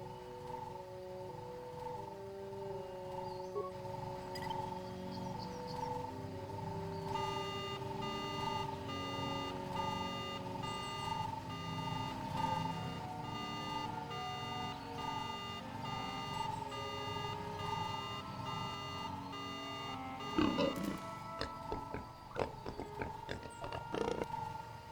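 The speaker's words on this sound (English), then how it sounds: "Activate the alarm system." An alarm system sounds in Star Wars: KotOR as a repeating electronic beeping tone pattern, steady and moderately loud over game ambience, continuing for much of the stretch before clattering effects near the end.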